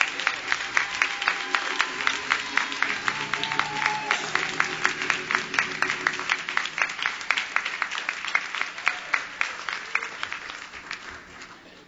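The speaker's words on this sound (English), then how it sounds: "can we please stand and give our pastor a big round of applause for all of the things he's done" A church congregation at a pastor's 29th anniversary service claps in a steady, rhythmic unison beat. The applause is sustained and full, then gradually thins and fades toward the end.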